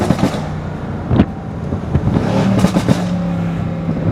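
Mercedes C63S tuned past 600 horsepower, rebuilt after a crash, revving and upshifting loudly while driving, with sharp bursts and crackles from the exhaust over a steady engine drone, close and loud throughout.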